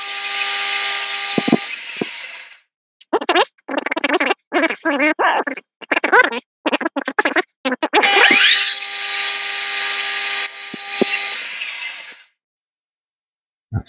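A machine takes a light 0.1 cut off a brake arm part in bursts of whirring and chattering cutting noise, broken by short pauses, then a longer continuous run before the cut stops.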